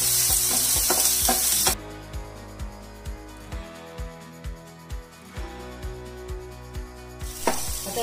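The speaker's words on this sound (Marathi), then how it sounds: "लसूण पेस्ट छान परतून घेऊया" Garlic paste sautés in a hot pan for egg bhurji, giving a steady sizzle broken by regular stirring strokes and a few sharper scrapes, all close and fairly loud with no talking.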